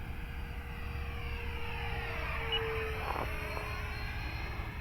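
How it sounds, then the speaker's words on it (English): A Habu radio-controlled jet with a 70mm electric ducted fan on a 3S battery flies a gentle, slow pass, giving a steady whining drone that stays moderately distant, with no talking. "70mm EDF, folks. 3S battery. I just don't think people realize just how gentle and slow this plane is."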